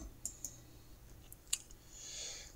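A computer mouse clicked a few times, with sharp, close, quiet clicks spaced unevenly in an otherwise hushed room.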